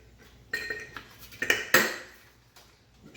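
Metal lid on the engine of a 1971 Chevy C10 being handled and fitted in a garage, giving several close clanks and clinks, with the loudest knock in the middle and scrapes between.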